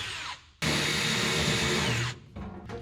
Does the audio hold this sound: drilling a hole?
yes